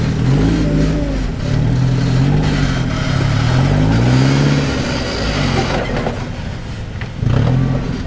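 A one-ton Toyota off-road rig crawls over red rocks at Sand Hollow, its engine loud and close, revving up and down in repeated surges with a brief drop before a final rise.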